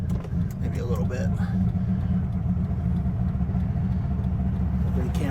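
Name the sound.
Dodge Viper GTS exhaust rumble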